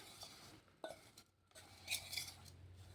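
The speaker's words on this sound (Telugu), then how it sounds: "సో ఇవన్నీ వేసుకుని ఒకసారి బాగా కలుపుకుందాం." Dry spices and garam masala stirred together in a bowl for meal maker (soya chunk) pakodi, giving soft scraping and a few light clinks of a spoon against the bowl, faint and intermittent, with no talking.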